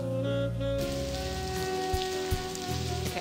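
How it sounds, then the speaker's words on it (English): Steady rain in the game Blackwell Convergence patters on a surface over a constant background tone and hum, with a few soft drops and thuds standing out. "Okay, so it's raining."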